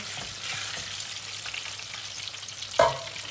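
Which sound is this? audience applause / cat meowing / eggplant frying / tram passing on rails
eggplant frying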